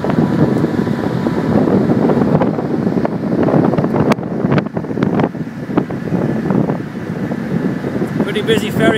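Steady wind buffeting a microphone on a busy car ferry crossing between County Kerry and County Clare, Ireland, a loud continuous roar with engine rumble and water beneath, occasional knocks, no clear talk.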